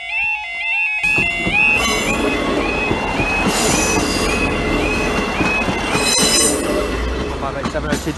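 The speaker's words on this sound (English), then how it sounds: "Here we are at Acheilidh level crossing in Highland with Joe Thorpe." A train passes a level crossing in the Scottish Highlands. Warning tones chime first, then loud rolling wheels and squeals carry on close by for several seconds.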